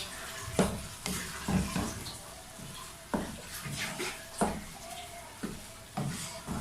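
Carrot halwa with cardamom powder gets mixed in a pan: a spoon drags and scrapes through the thick mixture in irregular strokes, each one a soft sloppy rasp over a low background sizzle, close up and without speech.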